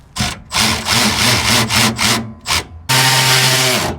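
Bolts are worked into a motor mount on a Daihatsu Hijet kei truck. A loud, close power tool whirs and grinds in repeated bursts with brief gaps, then runs in one steady, sustained stretch. Nobody speaks.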